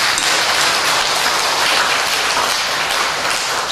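A church congregation at a Sunday service applauds in a dense, continuous burst of clapping that fills the room loudly and evenly throughout, with no speech over it.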